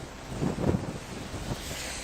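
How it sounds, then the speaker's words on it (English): Gusty outdoor wind buffets a news reporter's umbrella and microphone, producing a low rumbling roar with surging bursts, loud and continuous with no speech. "Things got a little windy here."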